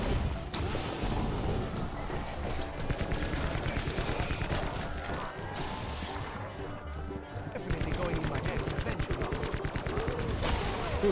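Rapid, continuous Wraith Fire gunfire in a Call of Duty zombies game, dense crackling bursts that barely let up across the whole stretch, with game action and clatter layered underneath.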